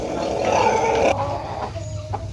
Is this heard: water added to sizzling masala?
no